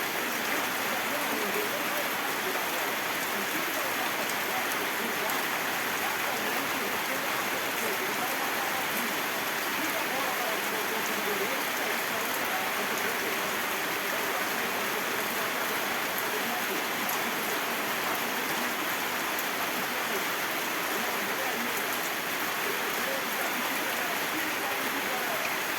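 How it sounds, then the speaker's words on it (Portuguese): Steady rain pours down outdoors while a man waters plants, a dense, even hiss of falling drops that holds constant and fairly loud throughout, with no clear voices. "vocês já viram alguma pessoa molhar as plantas chovendo?"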